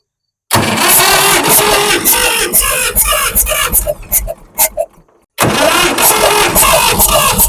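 A 1962 Massey-Ferguson tractor engine cranks and fires up loudly after a moment of silence, sputtering and stumbling before cutting out briefly, then catching again and running hard at high revs.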